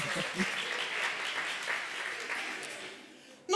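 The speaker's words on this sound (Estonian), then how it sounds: "Aplaus teile kõigile, väga hästi." Audience applause fills a conference hall at an internal-training event, a steady dense wash of clapping that holds for several seconds before tapering off, with a faint voice briefly underneath.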